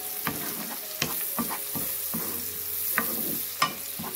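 Spices fry with onion in a pan, giving a quiet continuous sizzle broken by regular scraping strokes and taps from a stirring spoon, about one every half second, close and alone.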